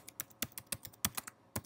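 Rapid keystrokes on a computer keyboard, about a dozen sharp clicks in an uneven rhythm, close and clear with no talking.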